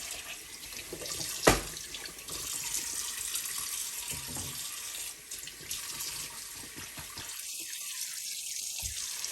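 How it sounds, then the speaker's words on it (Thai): Eggs being washed under cold running tap water: a steady, moderate hiss of flowing water with a sharp knock early on and brief handling noises near the end. "ล้างด้วยน้ำเย็นนะคะ"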